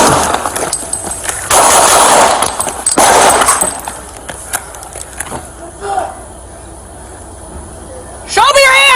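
Gunfire in a police shootout with an armed fugitive: sharp, loud cracks and metallic clangs ring out amid shouting and radio chatter, with a wailing siren rising at the end.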